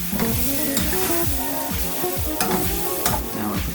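Tofu with a teaspoon of turmeric being tossed in a hot pan, a continuous close sizzle broken by repeated scraping and knocking of a utensil against the pan, with no voices.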